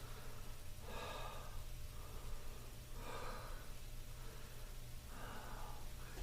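Three slow, deep breaths during seated chair yoga, each a soft, airy inhale or exhale spaced about two seconds apart over a low steady background hum.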